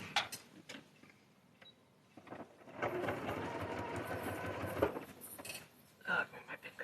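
Sewing machine stitching a seam runs in a dense, rapid mechanical burst of about two seconds, with quieter handling clicks before and after.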